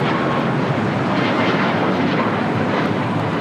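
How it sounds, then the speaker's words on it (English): A United Airlines Boeing 737 MAX 9 takes off from LAX, its engines producing a loud, continuous broadband roar that holds steady throughout with no voices. "2237 taking off to Houston Intercontinental on a MAX 9"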